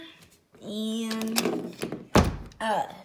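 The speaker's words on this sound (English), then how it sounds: "Let me close this door." A door swings shut with a single heavy thunk partway through, set among voices talking before and after.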